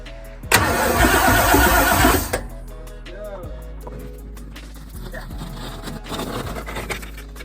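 Car engine cranking and catching as the ignition key is turned, a loud broadband burst lasting about two seconds on a vehicle suspected of a fried ignition switch, then settling into a quieter rumble with faint clanks.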